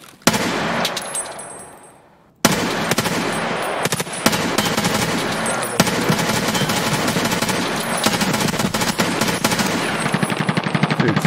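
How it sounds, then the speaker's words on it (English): Rapid automatic gunfire from a player in an online survival shooter, dense and continuous bursts of loud close shots with only a short gap early on, no talk over it. "was that a player shooting at me?"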